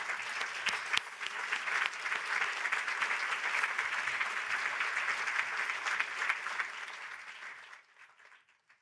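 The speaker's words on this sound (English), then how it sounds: "je vous demande de les applaudir" Conference audience in Montréal applauding young scholarship holders, a long sustained roar of clapping from a large room that tapers and stops just before the end.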